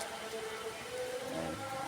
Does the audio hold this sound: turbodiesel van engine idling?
no